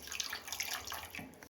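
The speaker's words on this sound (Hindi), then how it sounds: "मैं इसमें डालती हूँ पानी" Water poured from a glass into a pot of cooking chicken curry, a short splashing, gurgling pour lasting about a second and a half before stopping, fairly faint and alone.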